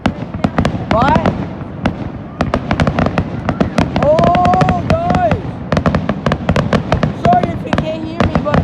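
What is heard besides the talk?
fireworks grand finale exploding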